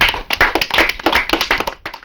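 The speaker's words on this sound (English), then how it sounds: "A round of applause for them, please." An audience claps as a round of applause at a competition show, a brief burst of close, rapid hand clapping that tapers off after about two seconds.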